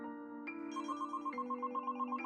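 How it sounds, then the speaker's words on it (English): A mobile phone rings in an electronic ringtone pattern, a steady tone with bright chimes repeating every second or so, loud and close, with no voices. "my phone started ringing"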